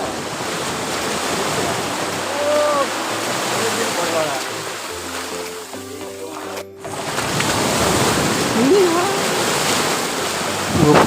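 Sea waves washing ashore at Carbon Beach in the Andaman Islands, a steady broadband surf wash running throughout with a brief lull midway, faint voices and bird-like chirps over it.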